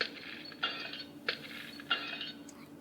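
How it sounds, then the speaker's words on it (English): In the Talking Ben the Dog app game, a glass breaks with faint, bright clinks: three brief tinkling hits spaced across a couple of seconds, heard alone at low volume. "Like you can break the glass."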